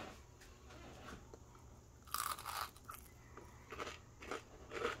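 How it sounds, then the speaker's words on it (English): Crisp crunching bites into a fried cornbread fritter, a few sharp crackly bursts spread over several seconds, close and moderately loud with faint chewing between them. "You hear that crunch?"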